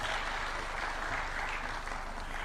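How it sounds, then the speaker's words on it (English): An audience applauds as a Cabinet Secretary approaches, an even, continuous patter of clapping from a crowd with no pauses. "We can clap for him as he's coming."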